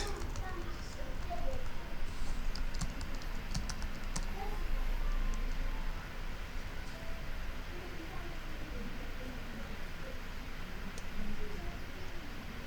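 Mouse clicks and keyboard typing on a computer while someone works on a logo design, steady busy clatter throughout with a voice talking over it.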